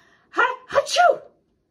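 A single voiced sneeze from a storyteller playing a centipede character, a sharp two-part "ha-choo" burst, close and loud, imitated by the human voice.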